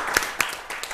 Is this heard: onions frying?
no